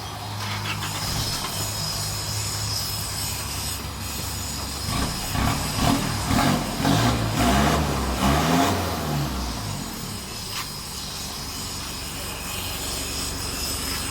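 A petrol Isuzu 2500 engine idles steadily with a freshly fitted exhaust pipe at a roadside repair shop, giving a continuous low rumble and rough broadband hiss that swell louder for a few seconds mid-way before settling back.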